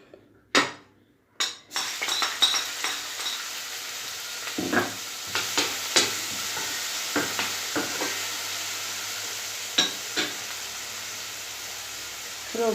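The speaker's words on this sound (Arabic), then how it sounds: "نخليو البصله تشحر مزيان" Onion frying in olive oil in a pan with a soft, continuous sizzle, while a utensil stirs it with repeated scraping clinks against the pan and a couple of louder knocks early on; no voices.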